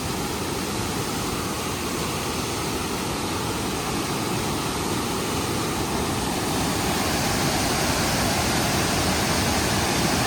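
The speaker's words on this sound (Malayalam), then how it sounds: "ഇതാണ് മുളിയിൽ വരുന്നൊരു വെള്ളച്ചാട്ടം" A small waterfall at Goodalloor in Tamil Nadu roars as a steady, dense wash of falling water, loud and unbroken throughout with no voices.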